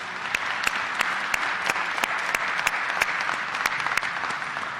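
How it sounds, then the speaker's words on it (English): Steady audience applause at a ribbon cutting for the Center for Coastal & Deltaic Solutions, a dense, even wash of many hands clapping with a few sharper claps standing out, no talking over it. "Please join in a round of applause for them."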